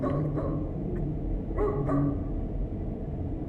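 A dog gives a few short barks and yips at a distance, partly buried under steady low background rumble, with no talk.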